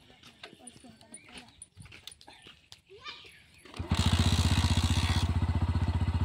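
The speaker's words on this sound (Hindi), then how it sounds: "हाई हील पहन के भी किक स्टार्ट हो गया" A Bajaj Pulsar NS 125 motorcycle is kick-started by a rider in high heels: a few scuffing kicks and mechanical clunks, then the engine catches and settles into a loud, steady, throbbing idle close by.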